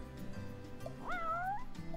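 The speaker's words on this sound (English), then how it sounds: "What a good kitty." A single drawn-out cat meow from the video game Final Fantasy XV rises and bends in the middle of the moment, clear over game music and background ambience.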